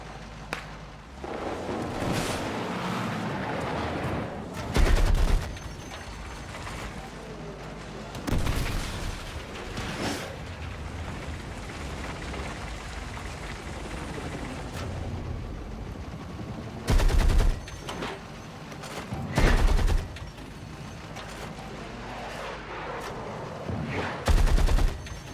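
Battlefield 6 multiplayer gunfire on a busy objective, with a constant crackle of distant rifles and several loud, close booming bursts recurring at intervals.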